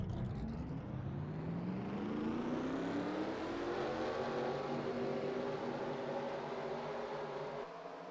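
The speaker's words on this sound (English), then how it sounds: "Drivers, start your engines" Several race car engines rev and rise together in a racing video game as cars fire up for a Monster Energy Drink Challenge at Denver Motorsports Park Roval, a dense, steady mechanical roar with climbing whines throughout.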